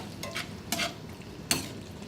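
Blanched asparagus tossed into a pan for pasta, with a few brief scraping, sizzling stirs and a small clink, close and moderately quiet with no talk.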